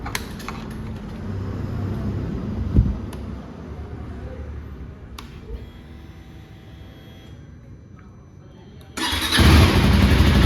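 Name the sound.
KTM Duke 390 motorcycle engine starting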